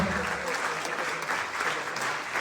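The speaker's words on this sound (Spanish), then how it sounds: "El hermano Elías, si le den un aplauso al Señor." A church congregation at a general fellowship service gives a warm round of applause, dense continuous clapping filling the sanctuary with a faint crowd murmur underneath.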